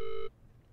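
A steady electronic telephone tone from a phone in a haunted-house video game, sounding loud and alone for about a quarter second before cutting off abruptly into quiet room noise.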